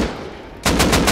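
Rapid gunfire from a weapon in the survival game Rust, a burst of evenly spaced loud shots that starts abruptly after a quieter stretch of background noise.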